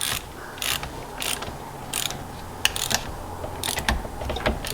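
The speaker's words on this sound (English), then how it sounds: "So we'll just nip these up with a ratchet and hopefully the cams will turn." A ratchet clicks in several quick bursts while cam bolts on a Cosworth cylinder head are tightened, each run of sharp metallic ticks close and fairly loud over a steady low workshop hum.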